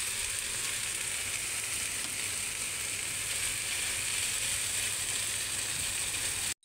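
Bitter gourd (ampalaya) sautéing with small shrimp paste (alamang) in a pan, giving a steady, even sizzle and hiss that holds throughout, fairly quiet with no stirring or voices.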